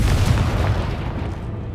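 A Confringo spell explodes in the video game Hogwarts Legacy, a loud deep boom followed by a rumbling, crackling burst that fades over under two seconds.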